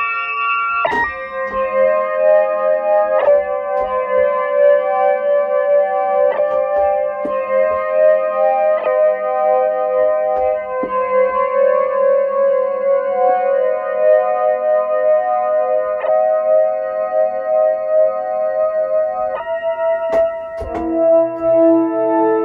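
A Kontakt software instrument runs through microtuned scales retuned by Entonal Studio, sustained bright synthetic notes stepping and overlapping with effects-laden shimmer, loud and alone without talk.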